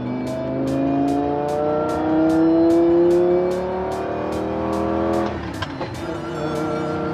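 Inside the cabin of a Lamborghini on the highway, the engine and exhaust hum steadily with rising and falling tones at about 5,000 RPM, alongside a regular repeating tick, then shifts as the gear or throttle changes.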